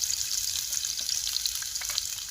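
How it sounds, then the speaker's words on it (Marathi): Chopped onion fries in a little oil on a hot tawa, giving a steady, close hiss and crackle of sizzling throughout. "तवा ठेवलाय, त्याच्यामध्ये थोडंसं तेल घातलंय, तर आपण आता या कांदा त्याच्यामध्ये घालून घेऊ"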